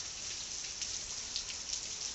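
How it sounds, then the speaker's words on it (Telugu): Heavy rain falls without a break, making a steady dense hiss with scattered drops tapping on a surface. No voices are heard. "ఎంత పెద్ద వానో"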